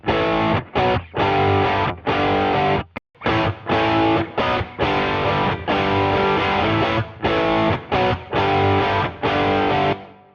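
Loud, heavily distorted electric guitar playing chunky rhythmic chords with short choppy stops, filling a roomy reverberant space.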